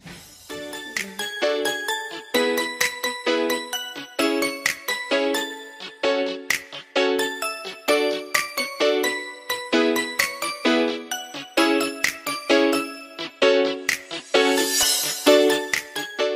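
Rapid, continuous jingling and tinkling of a bell inside a quarantine facility in Dubai, rung when breakfast rations arrive, with bright metallic strikes repeating steadily for the whole stretch at close range and no talk over it.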